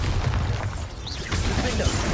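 Bombarda blasting spell exploding in Hogwarts Legacy, heavy low booming bursts with crashing debris, a couple of thumping impacts across the short span, loud and close.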